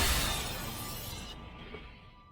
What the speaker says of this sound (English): she hears the sound of the nursery window shattering